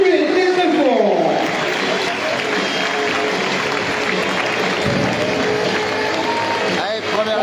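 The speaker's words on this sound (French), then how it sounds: "Sous vos applaudissements, s'il vous plaît, très très fort" Crowd applause at a live outdoor event in Le Crès following a gymnast's vaulting leap over a bull, a loud, steady wash of clapping that holds throughout with cheering and voices mixed in.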